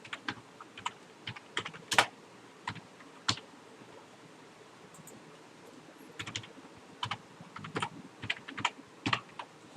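Code comments are typed on a computer keyboard as quiet, close keystrokes in irregular bursts, with a lull in the middle before the clicking picks up again. No one speaks.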